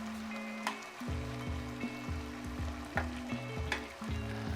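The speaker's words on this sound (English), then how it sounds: "we're gonna add our roux paste and 600 milliliters of black tea and give it a mix" Curry roux paste is stirred into black tea in a pot for Japanese beef curry, with a quiet steady sizzle and bubbling and soft scraping stirs repeating every second or so.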